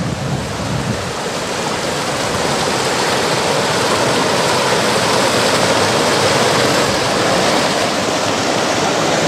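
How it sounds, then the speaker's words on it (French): A small mountain torrent in the Néouvielle area, lined with rhododendrons, rushes steadily and loudly close by, a dense continuous roar of water with no pauses and no voices. "le long de ce joli petit torrent."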